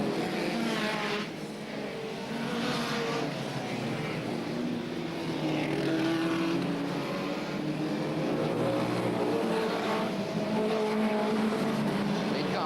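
1970s Spedeworth Superstox stock cars race past on an oval track, a continuous loud engine roar that swells and fades as cars pass close by, steady throughout with no break.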